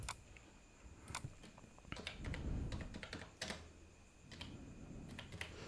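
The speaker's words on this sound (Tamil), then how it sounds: "நான் ரவுண்டு ஃபிகராக டைப் பண்ணுறேன்." Fingers type on a computer keyboard in quick, irregular bursts of crisp clicks and taps, heard close and fairly quiet, with short pauses between runs of keys.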